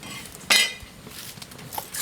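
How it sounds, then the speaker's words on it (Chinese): Pork belly goes into a pot of water with a single sharp metallic clank about half a second in. A soft kitchen rustle follows, with a faint clink near the end and no talking. "这个五花肉下锅"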